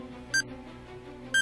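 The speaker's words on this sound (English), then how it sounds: "Was that a beep?" A bomb's timer beeps in a film scene: two sharp, bright electronic beeps spaced about a second apart, each short and clear above a low, steady background hum, with no talk.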